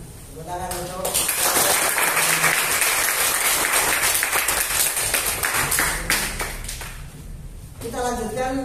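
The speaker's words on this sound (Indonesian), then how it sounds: "Tepuk tangan untuk" Applause from students in a classroom discussion lesson, a dense burst of clapping lasting about six seconds that fades out, with a voice speaking before and after it.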